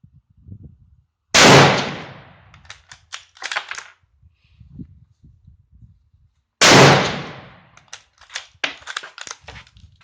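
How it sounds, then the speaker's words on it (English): Two loud, sharp rifle shots from a French MAS 36 firing 7.5x54mm rounds during bench shooting, spaced about five seconds apart, each followed by a short reverberant tail and faint clattering handling noises. "shots out of a Moss 36."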